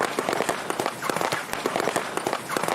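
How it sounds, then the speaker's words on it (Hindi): A car rolls over balloons to create a firecracker sound effect for movies, producing a rapid, irregular string of loud sharp pops and bangs that crackle throughout like a burst of fireworks. "मूवी में जो आप पटाखे का आवाज सुनते हो वो कुछ इस तरह से बैलून के ऊपर कार को चलाकर रिकॉर्ड किए जाते हैं"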